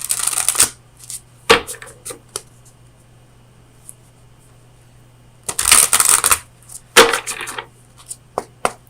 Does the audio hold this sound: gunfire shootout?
no